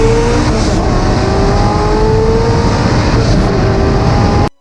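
An SSC Tuatara supercar's engine roars loud and close, revving in a sustained high-pitched howl that climbs through the gears before cutting off abruptly.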